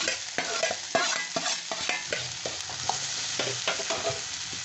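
Onions and tomatoes sauté in a pan for capsicum poriyal, a steady close sizzle broken by repeated scraping stirs of a spoon against the metal, with no talking.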